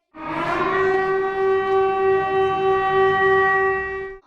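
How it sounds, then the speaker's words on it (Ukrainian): A loud, steady air raid siren wails continuously for a few seconds with a slight wavering rise and fall, then cuts off, during a school air raid drill in Mohyliv-Podilskyi, Ukraine. "відпрацьовували порядок дій при звучанні сигналів повітряної тривоги"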